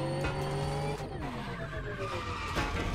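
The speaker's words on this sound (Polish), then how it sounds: "inaczej brzmią te samochody elektryczne tutaj, no nie?" An electric car in The Crew Motorfest racing game, with a smooth synthetic whine that rises and falls and tires squealing in a skid, loud and continuous.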